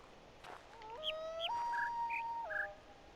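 Bright bird chirps in the video game The Witness, a short run of clear whistled notes rising and falling, heard near and alone over a quiet background.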